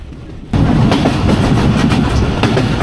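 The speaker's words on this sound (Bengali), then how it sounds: "আব্দুলপুর জাংশন পার হওয়ার পর এই ট্রেনের কিন্তু বেশ ভালোই গতি দেখা যাচ্ছে" Dhalarchar Express passenger train running at speed on the Pabna–Rajshahi line after Abdulpur Junction: a loud, steady roar of wheels on rails with rhythmic clickety-clack, jumping up in level after a brief quieter start and staying close and continuous.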